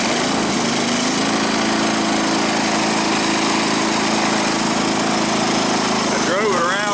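Wheel Horse 315 lawn tractor engine running after a fuel line repair, a loud, steady close-up drone held throughout, with a brief rise in pitch near the end.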